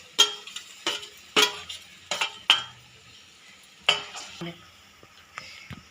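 A ginger pickle mixture with jaggery and tamarind cooks in a pan, with a spoon scraping and clinking against the metal in a series of sharp, irregular strokes over a faint sizzle.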